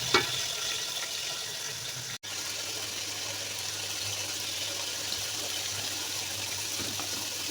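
Chicken fries in a karahi with a steady, broad sizzle that hisses on evenly throughout, close and moderately loud, broken by one brief dropout.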